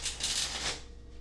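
Tarot card deck being shuffled, a quick crisp riffle of cards lasting under a second, close and clear, then fading to quiet.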